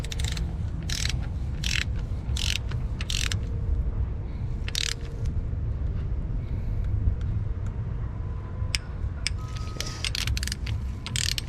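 Torque wrench ratcheting while tightening water pump bolts on a Jeep Grand Cherokee, giving a series of sharp, rapid clicks over a steady, loud background rumble in a garage setting.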